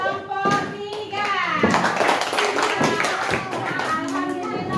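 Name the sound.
children applauding a group in class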